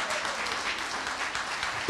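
A church congregation applauding together in praise, a steady dense clatter of many hands that holds evenly throughout.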